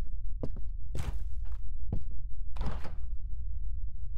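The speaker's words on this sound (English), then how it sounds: "So I'm pretty sure I just heard footsteps above." Footsteps overhead in the indie horror game Nocturnal Visit: a few dull, muffled thuds from above, spaced irregularly over a low ambient hum, with no one talking.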